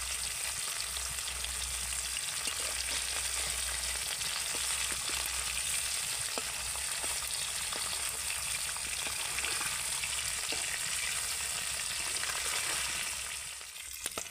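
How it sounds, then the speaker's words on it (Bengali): Small tangra fish shallow-frying in a pan give a continuous, even crackling sizzle that stays close and steady, easing off just before a brief clatter at the end. "আর মাছগুলোকে কিন্তু আমি এরকম চাপা দিয়ে ভেজে নেব"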